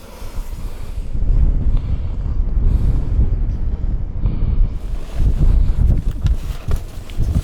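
Strong wind roars against the microphone outdoors in snow, a loud and continuous low rumble that swells and eases, with no talking.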